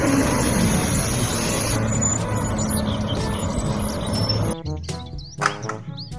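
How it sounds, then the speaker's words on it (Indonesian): A heavy garbage truck engine rumbles steadily for several seconds, then cuts off abruptly; birds chirp faintly in the quieter moments afterward. "Mobil truk pengangkut sampah."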